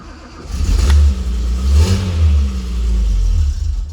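A car engine runs loud and close during a multi-car restoration, holding a steady low idle with revs swelling up twice before settling into a sustained rumble.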